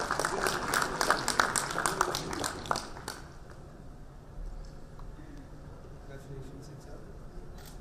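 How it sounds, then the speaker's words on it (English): A large crowd applauds at a formal awards ceremony, loud dense clapping for about three seconds before it stops abruptly, leaving a quiet room hum. "a huge round of applause for sir"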